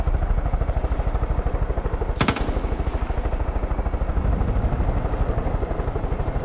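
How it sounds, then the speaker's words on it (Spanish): A helicopter in the video game Far Cry 5 flies and comes in to land, its rotor thumping in a steady, rapid, loud rhythm throughout, with a brief sharp burst partway through. "Vamos a aterrizar el helicóptero por aquí."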